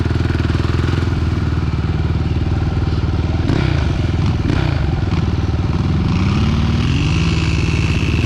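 A Suzuki LTR sport quad ATV engine drones loudly and steadily at close range while being ridden at a sport quad event, with brief thumps and clatter midway and the pitch rising near the end.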